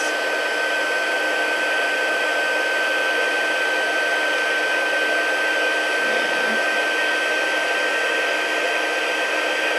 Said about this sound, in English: My heat tool isn't quite long enough. I've got it plugged in across the room, so bear with me. I'm going to emboss.